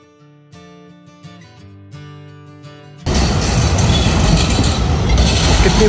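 A tonal whine fades into a sudden loud roar of an Istanbul metro train rushing past close by, with rumbling rail noise that persists.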